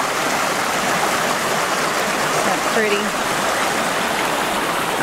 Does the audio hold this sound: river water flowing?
yes